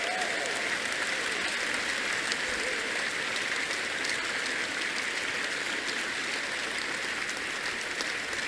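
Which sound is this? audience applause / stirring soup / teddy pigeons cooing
audience applause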